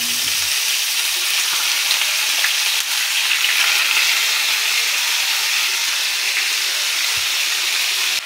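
Pork frying in a pan as the first step of adobong baboy, a loud, steady, even hiss of sizzling fat that runs unbroken throughout, with no voices.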